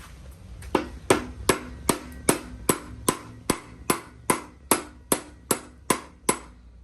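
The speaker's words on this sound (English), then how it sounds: "get a hammer" Sharp metallic hammer blows strike a car crankshaft pulley repeatedly, about fifteen evenly spaced hits, loud and close with ringing decay, no talking.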